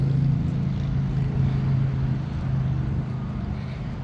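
Komatsu PC360 excavator engine running at a steady idle, a close, even low-pitched diesel rumble with no talk.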